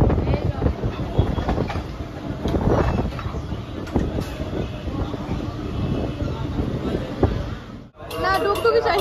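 Rumble and clatter of a moving passenger train with people talking over it throughout, a brief dip near the end before the noise resumes.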